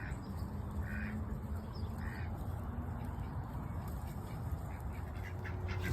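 Ducks quack a couple of times at a park, fairly faint against steady wind and outdoor background noise, with no talking.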